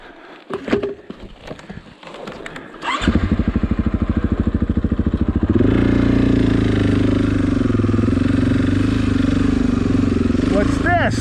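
A heavy 500-pound adventure motorcycle engine idles close by, starting with some rustling and handling noise, then settling into a loud steady rapid thrum that grows a little fuller and continues unbroken.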